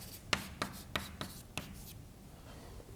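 Chalk or marker writing on a board during a physics lecture on spinning massive particles and black holes: a few sharp taps and short scratchy strokes spaced out, fairly close, then a quieter stretch of room tone.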